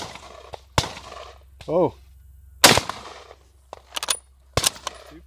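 Rifle shots cracking at targets, the rifles being a Lee Enfield No. 4 Mk1*, M1903 and M1917 Enfield: several sharp, loud reports with short echoing tails, spaced seconds apart, with people talking and a brief exclamation between them.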